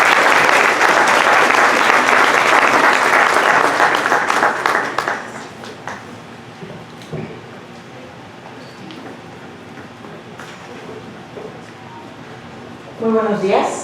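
An audience at a health conference on breastfeeding barriers claps warmly for a doctor, a loud dense burst that fades after about five seconds into quiet room noise with scattered sounds, then a voice starts speaking.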